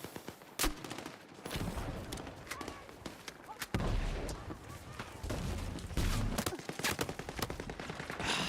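Gunfire in the Battlefield 6 video game, a flurry of sharp shots and bursts, some near and loud, others more distant, scattered irregularly across the stretch with a voice talking intermittently underneath.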